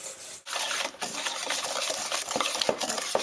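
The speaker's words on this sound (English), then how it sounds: "And I'll whisk this in." Whole cane sugar being whisked into a bowl of clafoutis batter, giving a steady close-up scraping and stirring rattle of a whisk against the bowl with a brief pause near the start.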